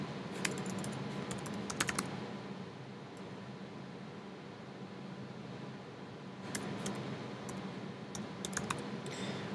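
Keys tapped on a computer keyboard while entering a Google Apps or Gmail password, short bursts of soft clicks near the start and again toward the end over a steady fan-like background hum.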